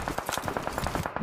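Rapid gunfire in a battle royale shooter match, a fast regular burst of sharp shots at a steady rhythm, loud and close with no voices.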